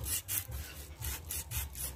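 Rhythmic back-and-forth rasping of sandpaper smoothing a carbon brush from a Hyundai Accent power steering motor, about six quick strokes, close and fairly quiet.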